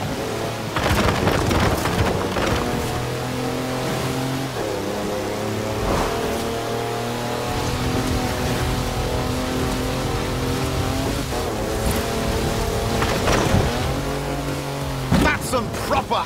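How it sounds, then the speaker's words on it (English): Four-wheel drive car on mud tyres sliding completely sideways in Forza Horizon 4, its engine holding a loud, steady droning roar with wavering pitch and a rough rumble underneath, while someone talks over it. "That's a four-wheel drive car on mud tyres completely sideways."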